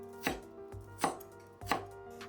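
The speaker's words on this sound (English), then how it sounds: "And same thing with green onion. Cut those to smaller pieces" A knife chops green onion on a cutting board in three crisp, evenly spaced strikes, close and distinct against a faint steady hum, with no talking.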